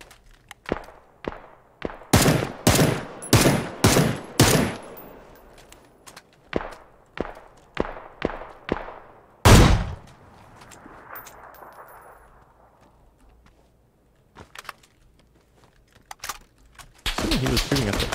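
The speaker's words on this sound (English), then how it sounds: "He was shooting at it." Sharp gunfire bursts from PUBG, a fast volley of loud close shots followed by spaced single cracks and another heavy blast, with quieter gaps between and a dense rattle at the end.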